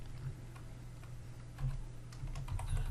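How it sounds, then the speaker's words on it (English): Light typing on a computer keyboard, a loose run of soft clicks at close range over a steady low hum, with no voices. "type in Remix"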